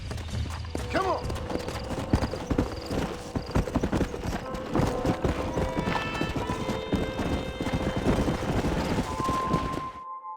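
A stallion gallops in the Red Dead Redemption video game, with rapid rhythmic hoofbeats and a whinny early on, set over wind, game music and scattered voices.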